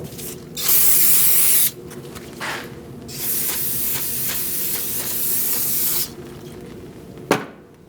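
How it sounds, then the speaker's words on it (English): Cleaner is sprayed onto the wheel hub of a 2004-2012 Chevrolet Colorado in several loud, sustained hissing bursts, some long and some short, with a sharp clack near the end. "Spray it down. Clean it up."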